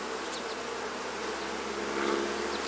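Honey bees buzz densely around an open hive being split, a steady, close swarm drone filling the air without pause.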